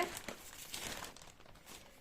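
An ordinary plastic shopping bag from an ATB supermarket crinkles and rustles up close in irregular soft bursts, fairly quiet, with no talking.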